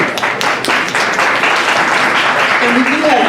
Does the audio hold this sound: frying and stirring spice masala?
no